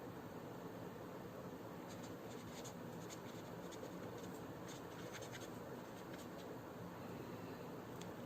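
Marker or chalk writing notes on a board during a chemistry lesson, faint scratchy strokes in short bursts over a quiet room hum, with no talking.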